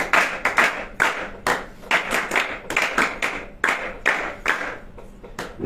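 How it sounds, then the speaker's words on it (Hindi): An audience at a religious satsang and discourse gathering at an ashram claps loudly in bursts of applause that are close and lively, with separate hand claps standing out through the crowd. "जरा जोर से ताली बजाइए"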